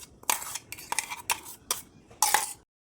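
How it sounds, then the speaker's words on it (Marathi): Chutney scraped from a mixer jar into a bowl with a spoon: a series of about six sharp metallic scrapes and clinks in an uneven rhythm, close and fairly loud, with no talking. "याच्यामध्ये एका बाऊलमध्ये काढते मी"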